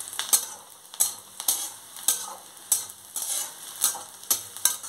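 A spatula scrapes and taps rhythmically against a pan, about eight strokes spaced roughly half a second apart, over a light sizzle while ingredients stir-fry before boiled bottle gourd peel is added; no one speaks.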